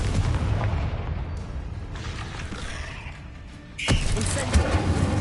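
Confringo fire-blast spells explode in Hogwarts Legacy, with rumbling bursts and a sharp close boom near the end, while a voice speaks over the action.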